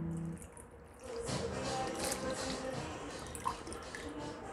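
Potato slices for fasting chivda get a fourth gentle hand rinse in fresh water, with soft swishing, trickling and small drips close by, a brief sharper splash near the end, and no talking.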